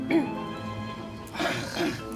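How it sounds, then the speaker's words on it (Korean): A man clears his throat several times in an office setting, short guttural bursts near the mic, with a brief lull between them and room tone underneath. "아 저 헛기침을 계속"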